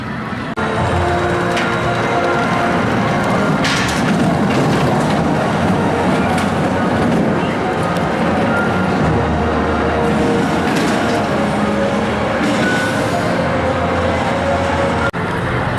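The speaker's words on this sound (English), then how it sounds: "So I've just had a ride on Dragon's Fury" The Dragon's Fury spinning roller coaster at Chessington World of Adventures, 21 years old, rumbles and clatters along its track in a loud, continuous roar with rattling wheels and rushing wind throughout the ride.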